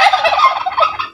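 A turkey gobbles close by, a rapid, warbling burst of throaty notes lasting about a second.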